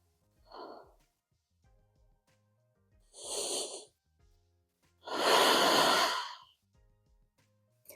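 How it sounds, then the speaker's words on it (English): Three slow, deep breaths during a yoga session for lower back and hip pain, each a soft airy exhale that grows longer and louder than the last, the final one a full sighing release, separated by quiet pauses. "We'll take 2 more breaths."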